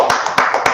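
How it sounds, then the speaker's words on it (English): A few sharp hand claps from a class audience welcoming new members, about four distinct claps in quick uneven rhythm, close and loud. "Let's clap it up for that."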